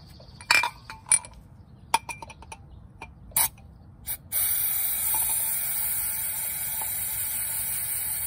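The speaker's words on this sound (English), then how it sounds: "I'm gonna spray it with some brake clean." Brake cleaner is sprayed onto brake parts in a glass cup after a few clinks of glass and metal; a loud steady aerosol hiss starts midway and runs to the end, close by.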